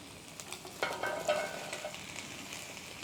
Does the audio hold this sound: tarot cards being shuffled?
no